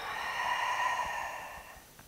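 Deep exhale during yoga breathing, a single long, soft airy breath out that swells and fades over about two seconds, close and quiet with no talking.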